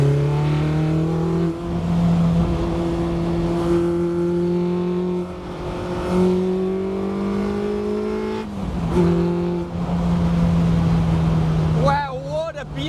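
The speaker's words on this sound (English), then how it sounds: "Those throttle bodies are so loud though." A Renault Sport Spider engine with loud throttle bodies drones steadily at speed, its pitch rising through gears with brief dips at shifts, under a driver's talk.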